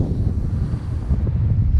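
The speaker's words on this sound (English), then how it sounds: "Very, very windy" Strong wind buffets the microphone with a constant low roar and rumble, outdoors while fishing.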